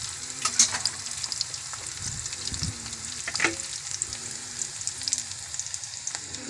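Garlic sautéing in a pan after onions while cooking tinolang tilapia: a steady, close sizzle and crackle of frying with occasional stirring scrapes, loud and continuous with no talk.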